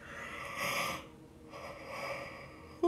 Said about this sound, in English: I have to yawn